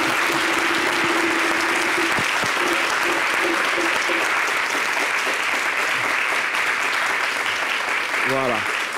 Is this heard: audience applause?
yes